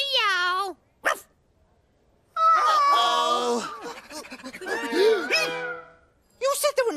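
Voices in a children's puppet comedy imitate a cat's meow and a dog's bark, trading short, loud, pitched calls separated by brief silences.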